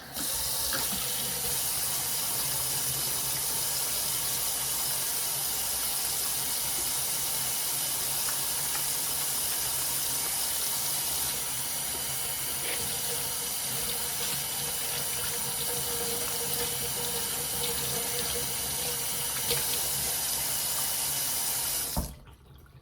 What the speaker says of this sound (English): the first thing we're going to do is wash our hands. And we have some antibacterial soap.